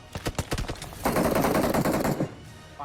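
Rapid bursts of gunfire in the battle royale game BGMI: a string of sharp separate shots is followed by a dense, loud automatic volley lasting about a second, then the shooting stops.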